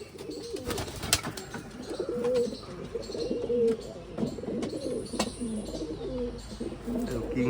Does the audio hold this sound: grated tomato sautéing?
no